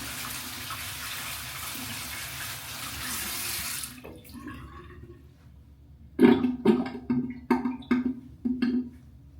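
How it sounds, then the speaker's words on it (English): Tap water runs steadily while a hand is rinsed under it, a continuous broadband wash that drops away partway through, followed by several close, sharp splashes and knocks at a sink. "I'm about to just kind of rinse my hand off."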